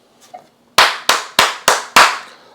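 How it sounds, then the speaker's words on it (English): Five sharp, loud hand claps ring out in an irregular rhythm, close up, with nothing else heard between them. "I'm going to give a hand clap for that"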